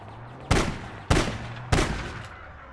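Three sharp, loud gunshots ring out in APB Reloaded, evenly spaced about half a second apart, each with a short decaying tail over a low steady hum.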